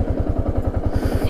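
A Yamaha R15 motorcycle rides along a steep descending road, its engine thumping in a fast, even pulse close to the microphone.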